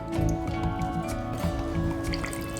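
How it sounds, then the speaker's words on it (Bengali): Whey drips and trickles steadily from chhena draining through a clean cloth in a home kitchen, a soft continuous wet patter with a faint background hum throughout. "এ দেখুন আমি জলটা ঝরিয়ে নিচ্ছি জলটা ঝরিয়ে নিয়েছি ছানা থেকে"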